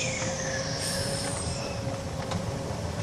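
A small train rumbles along steadily, with a sustained high squeal of wheels on track and faint rattling over a constant low roar.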